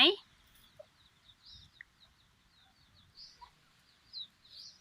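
A mother hen with chicks clucks softly and intermittently, with faint bird chirps scattered through a quiet outdoor background.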